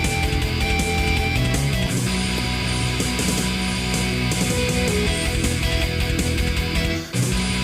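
Metal arrangement built from MIDI, with dense distorted guitars and drums playing loud and continuous, briefly dropping out near the end before resuming.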